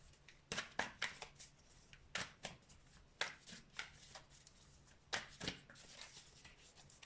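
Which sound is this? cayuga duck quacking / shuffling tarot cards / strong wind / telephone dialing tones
shuffling tarot cards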